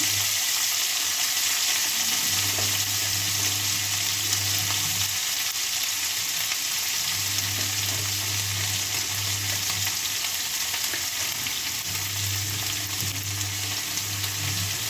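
Shredded cabbage hitting hot oil with crackled mustard seeds and chili, a loud, steady sizzle that swells in bursts as the pan is stirred, with no talking.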